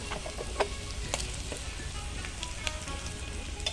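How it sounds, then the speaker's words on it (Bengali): Ginger garlic paste fries with onions and chilies in a pan, giving a soft, steady sizzle with scattered crackles and light stirring clicks throughout. "পেঁয়াজের সাথে আদা রসুন বাটা আমি ভালো করে নিয়ে চেড়ে দিই"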